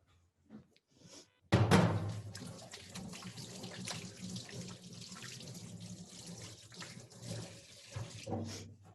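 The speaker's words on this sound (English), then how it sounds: "And now I will wash my hands." A kitchen tap runs while hands are washed at a cooking event after making dough. The water starts suddenly and flows as a steady, fairly loud splashing rush, close by, with no talking.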